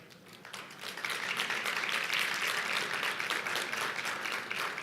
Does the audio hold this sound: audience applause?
yes